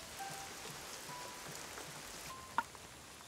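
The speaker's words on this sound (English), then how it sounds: "It rains really hard here," Heavy rain pours steadily in a cartoon, a soft even hiss of falling drops with one brief sharp tap near the end.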